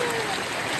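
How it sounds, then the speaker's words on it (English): Heavy rain pours at an outdoor amusement park midway, a dense and continuous hiss of falling water that is loud and steady with no pauses. "it's pouring right now"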